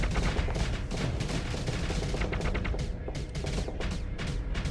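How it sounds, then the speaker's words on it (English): Dense, continuous barrage of missile launches and weapon impacts in a modded Starsector space battle, loud and steady throughout with rapid overlapping bursts and no talk. "I'm going to try and hit him with missiles."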